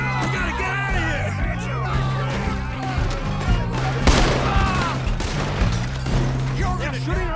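Gunfire from the Western video game Red Dead Redemption 2 during a gang shootout: rapid repeated shots and booms over a loud, dense mix of shouting voices and background score.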